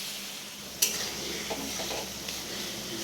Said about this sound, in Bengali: এটাকে ভালো করে নাড়াচাড়া করে শুকনো করে নিতে হবে।